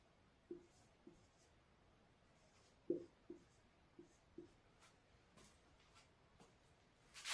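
A pen or chalk writes out a chemistry example during a class 10 lesson on balancing equations, giving faint, sparse taps and scratches spaced irregularly in a quiet room.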